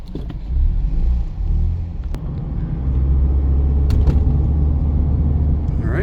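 A red 2020 Mazda MX-5 Miata drives through corners, giving a steady low engine and road rumble that swells slightly midway, with a couple of brief clicks and no talk over it.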